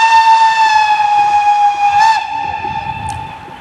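A loud, sustained multi-tone whistle from a train at a locomotive parade during a summer festival in Koblenz-Lützel, sounding steadily for about two seconds before cutting off and leaving rumbling rail noise.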